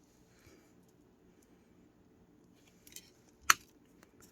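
Scissors snip off the bent tip of a silver decor piece for glam winter decorations: a few faint handling clicks, then one crisp, sharp cut close by in a quiet room.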